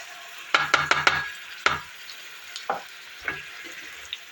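Zucchini and rice get stirred in a pot. A quick run of sharp spoon scrapes and clanks comes first, then sparser knocks over a soft background sizzle.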